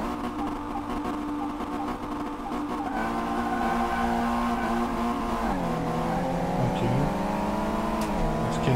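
Ford Mustang engine revving and accelerating in Car Mechanic Simulator 2018, a steady droning tone that climbs and shifts pitch through gear changes, loud and close.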